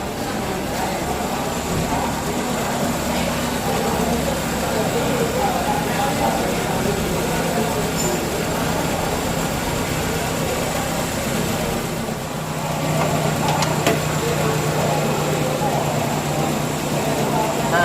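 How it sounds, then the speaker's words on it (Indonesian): A vehicle engine runs at a steady, loud idle for a long stretch, a constant low hum with a brief dip partway through, while someone talks over it. "kita hidupkan mesin terlebih dahulu."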